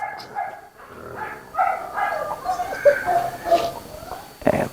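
A German Shepherd guard dog at a dog kennel gives a string of barks and yelps, fairly close, with a brief voice near the end.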